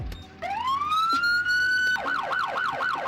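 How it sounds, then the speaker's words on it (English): A Roblox police vehicle siren rises into a long steady wail, then switches to a fast repeating yelp; loud and close, with no talking. "Now let's hear the sirens on this vehicle."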